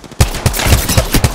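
Loud, close rapid-fire gunfire in a video game, Season 6 Voidwalker, with about seven sharp shots in quick succession.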